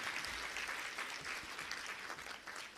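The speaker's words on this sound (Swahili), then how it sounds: "tumpe makofi mengi Mheshimiwa Rais" Sustained applause from a ceremony audience in Tanzania honouring the President at a budget-support funds handover event, a dense steady clapping that continues throughout without speech.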